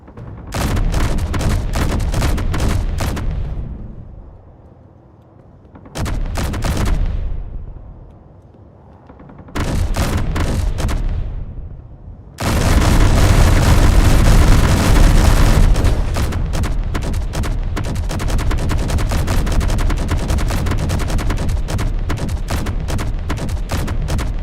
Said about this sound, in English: Oh, well, that was a full-on rocket hit.